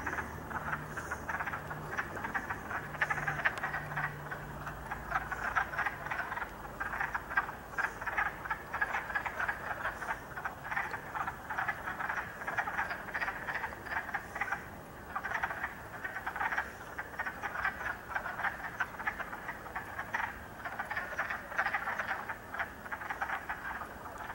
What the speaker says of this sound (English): Lots of the frog sounds.